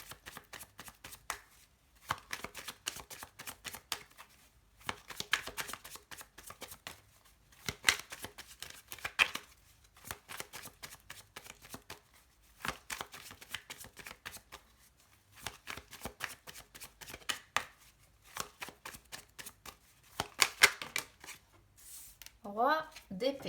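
Tarot cards shuffled by hand in repeated bursts of riffling and sliding, separated by short pauses, close and moderately loud, with a quick flutter of cards near the end.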